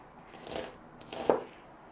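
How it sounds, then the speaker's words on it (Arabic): A knife slicing an onion on a board, two soft, separate chopping strokes close by in an otherwise quiet kitchen. "غادي نقطعوا البصله"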